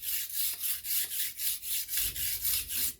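A blade is drawn repeatedly across a Sharp Pebble sharpening puck, giving rhythmic raspy scraping strokes about five per second, close and evenly paced with no talking.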